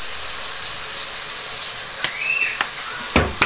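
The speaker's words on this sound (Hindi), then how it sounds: "और अब हम इसको 5 मिनट पे फ्राई करेंगे" Vegetables and peas frying in a pan with soy sauce give a steady, loud hiss of sizzle, broken by a few sharp clinks and scrapes of stirring near the end.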